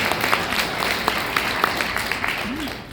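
An audience at a talk on social media tactics claps in a dense, steady burst that lasts the whole stretch at moderate loudness.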